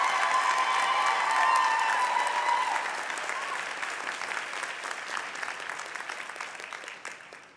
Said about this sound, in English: Let's give our faculty staff a big round of applause.